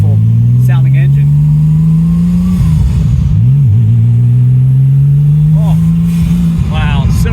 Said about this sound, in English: that beautiful, beautiful sounding engine